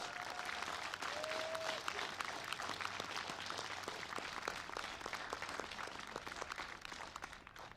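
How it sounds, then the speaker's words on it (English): A crowd at Oil City's sesquicentennial celebration applauds city staff and committee members, giving a continuous wash of clapping that sounds somewhat distant and fairly quiet, lasting several seconds. "Let's give them a big round of applause"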